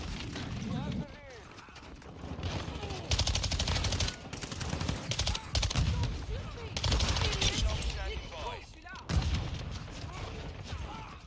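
Dense gunfire from Modern Warfare II on the cramped Shipment map, sustained automatic bursts and clattering mechanical sounds, with a player talking over the action.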